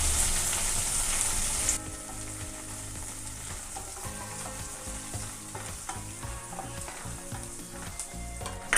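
Carrot pieces for semiya pulao sizzle steadily in a hot pan while being stirred, with close, continuous frying hiss and occasional scraping of the spoon throughout.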